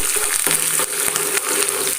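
Green chili, ginger, dried red chilies and curry leaves sizzle and crackle in hot oil, a dense, loud, continuous frying hiss up close with scattered pops and a stir or two, no talking.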